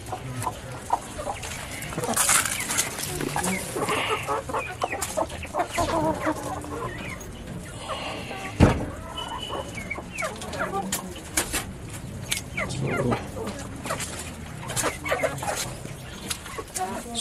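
Chickens cluck inside a coop housing a flock with a respiratory illness, soft and steady calls continuing throughout, with occasional rustling and a brief knock near the middle.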